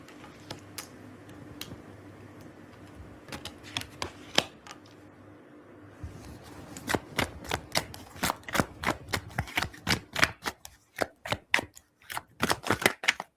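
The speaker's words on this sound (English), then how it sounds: "And now I do a modified shuffle." Playing cards being shuffled in a modified shuffle, heard as a quiet stretch of scattered riffling ticks, then a faster run of sharp, evenly spaced card snaps growing louder near the end, with no talk.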